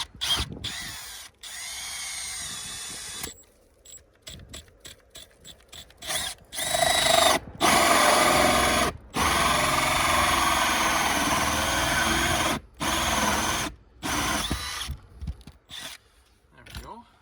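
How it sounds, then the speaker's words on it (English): A power drill bores through a roof for passing a solar electrical cable, running in several loud, sustained bursts of a few seconds each, separated by short pauses, with ratcheting mechanical chatter between runs. "now I'm going to drill through."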